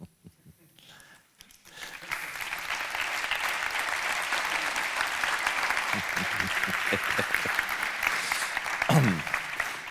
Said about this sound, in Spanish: Seguro que se lo aplauden los arquitectos.